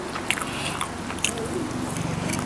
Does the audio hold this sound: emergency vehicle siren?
no